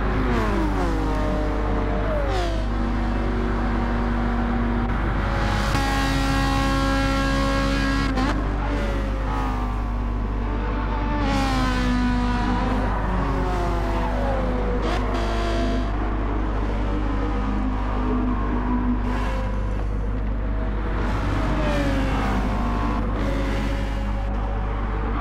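Race cars in Gran Turismo 7 at Watkins Glen, with a car such as a Scirocco, their engines droning and rising in pitch through gear changes as they drag race side by side, steady and loud for the whole stretch.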